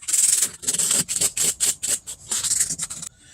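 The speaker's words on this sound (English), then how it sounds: "Just a quick sand will do the trick." Sandpaper rubs briskly over a faded plastic car door handle, a loud, close, rasping scrub in rapid back-and-forth strokes that stops just before the end.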